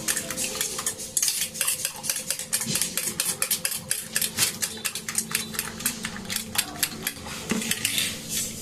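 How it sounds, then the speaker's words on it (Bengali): A utensil rapidly taps, scrapes and clatters against a bowl while breaking up and mashing a mixture of egg, onion, tomato and spices, giving dense rhythmic metallic clicks up close, with no talking. "বেশ ভালো করে ডিম, পেঁয়াজ, টমেটো, মশলা সমস্ত কিছু খুব সুন্দর করে একটু করে ফাটিয়ে নেব"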